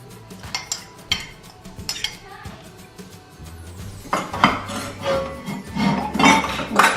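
A spoon stirs a thickening sauce in a pressure cooker pot, giving close metallic clinks and scrapes against the pot that start sparse and become a louder, continuous rhythmic scraping.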